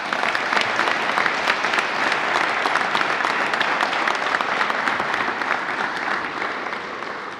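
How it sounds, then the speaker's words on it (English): Warm, sustained applause from a large audience at the Northeast Maritime Institute graduation ceremony, with dense, even clapping throughout that tapers slightly toward the end. "Can we all give a round of applause and warm welcome to Michael Klein."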